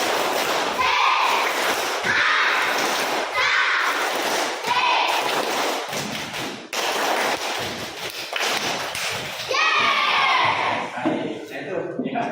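Schoolchildren in an Islamic religious education lesson perform the rhythmic 'Tepuk Sindasari' clapping chant, loud patterned bursts of claps and thumps interleaved with chanted voices, repeating in phrases over about twelve seconds.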